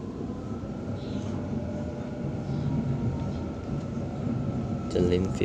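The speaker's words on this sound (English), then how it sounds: "Now we'll approach the Blacktown platform number 2" A Sydney T1 Western Line train rolls into Blacktown platform 2, giving a steady, continuous interior rumble that swells slightly toward the end.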